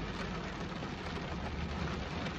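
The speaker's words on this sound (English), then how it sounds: "It's peeing it down the rain. It's absolutely horrendous out here." Heavy rain pours down outdoors in a steady, dense wash of noise that stays loud and unbroken, with no voices over it.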